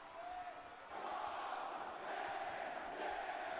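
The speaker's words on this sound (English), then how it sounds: "Didn't like that the crowd is in favour of Rob Van Dam" An arena crowd in the WWE 2K18 wrestling game roars and chants in a steady wash that swells after the first second, faint and continuous with no clear talk over it.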